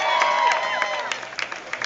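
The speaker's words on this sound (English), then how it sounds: "Give a round of applause for Lima." Crowd at a Democratic rally at the Ohio Statehouse cheering and applauding for Lima, Allen County, with a steady wash of claps and shouts that thins toward the end.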